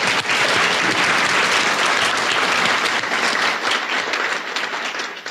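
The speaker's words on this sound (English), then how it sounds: "give a round of applause for all the volunteers who are here" Loud, dense applause from an audience at the Volunteer Memphis Awards honoring volunteers, many hands clapping in a sustained wash that tapers slightly toward the end.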